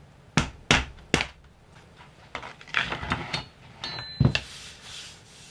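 A tapping block knocking LifeProof luxury vinyl planks together during installation: three firm, close wooden thumps in quick succession, then scraping and shuffling, with a couple more knocks after.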